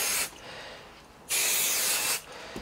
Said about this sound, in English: I'm guessing we just spray it on the material